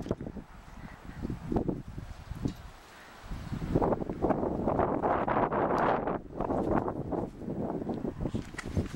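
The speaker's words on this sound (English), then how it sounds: "Feel that wind, Mango." Wind gusting past a microphone outdoors as a pet bird perches on a finger and spreads its wings, a rough, uneven buffeting that swells louder from about four seconds and stays strong, with a few faint voice sounds.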